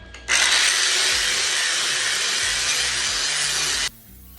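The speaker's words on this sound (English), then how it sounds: "I'm taking a 40 grit flat disc" A 40 grit flat disc grinds 3/8 steel flat bar in one loud, steady, harsh rasping run of about three and a half seconds, starting and stopping abruptly, with no talking.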